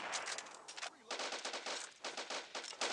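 Rapid bursts of automatic gunfire in the video game Crisis Action, loud and close, coming in several volleys separated by brief pauses, with no talk over them.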